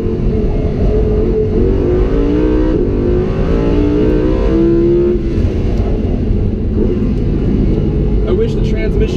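A Lamborghini Huracan engine revs hard as the car drives a figure-eight course, a loud continuous roar with rising and falling pitch through gear changes, heard from inside under steady talk.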